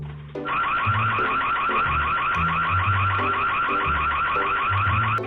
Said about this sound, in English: thanks to the Ring Home security alarm, they could quickly scare him away